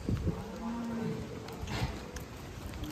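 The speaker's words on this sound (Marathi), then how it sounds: "मित्रांनो या फार्मवर आलं आपण आता गाई बघण्यासाठी." Holstein Friesian dairy cows in a farm shed in Haryana: a couple of short, low moos close by over a busy background of barn noise, with no talk.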